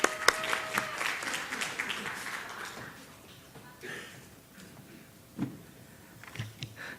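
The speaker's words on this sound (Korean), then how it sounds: "다시 한번 박수로 격려하겠습니다" Church congregation at a Sunday worship service clapping for a man coming up to share his testimony, a brief burst of applause at the start that fades quickly into room quiet with scattered faint noises.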